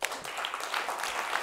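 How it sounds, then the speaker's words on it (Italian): Faint, distant audience applause at a talk in Italy, a soft steady wash of many hands clapping. "Un applauso a Ivano e Sauro."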